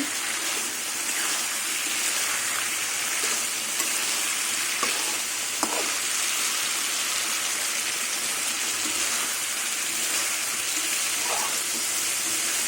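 Koi fish frying in oil with spices in a pan, a steady dense sizzle close by, with a few sharp clicks of utensils against the pan and no voices.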